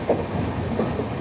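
A 16332 Express train runs on rails in southern India, a steady low rumble of wheels and carriage noise with faint clacks, heard continuously from inside the coach.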